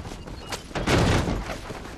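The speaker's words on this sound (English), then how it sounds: "Why are you still shooting?" Gunfire in the Western video game Red Dead Redemption: a burst of loud, close shots packed into a two-second rapid volley, with the densest firing in the middle and a sharp crack near the start.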